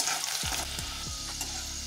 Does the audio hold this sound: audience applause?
no